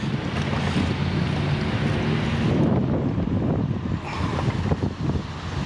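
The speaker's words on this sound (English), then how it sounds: "It's freaking windy, man, today." Steady, blustery wind buffets the microphone with a low rumbling roar that persists throughout, swelling in gusts with no voices present.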